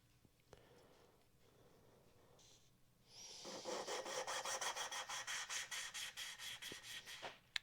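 Coarse grinding paste lapping a leaking intake valve into its seat on a Fordson Dexta engine head, starting after about three seconds of quiet as a steady, close gritty rasping in quick back-and-forth strokes.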